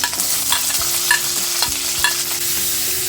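Onion with ginger, garlic and green chili frying in a pan for a North Indian mutter paneer masala, stirred with a spatula: a steady close sizzle broken by repeated scraping strokes, no talking.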